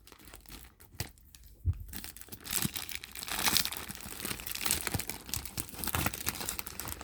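Taped, folded plastic bag from a Dooney & Bourke handbag package being pulled open and unwrapped, with close, steady crinkling and tearing that builds and continues throughout.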